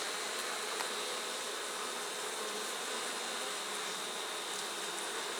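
Honey bees buzz steadily and loudly on a brood frame inside a hive, a dense continuous hum close up with no talking.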